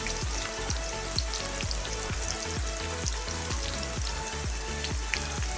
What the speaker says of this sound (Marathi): कांदा असा सुट्टा करून टाकायचा, म्हणजे लवकर तळला जातो.